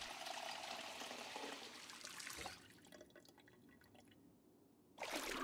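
Water bottles being filled in the Project Zomboid survival game, a steady running-water rush that drops to quieter dribbling midway and then surges again at the end, faint overall.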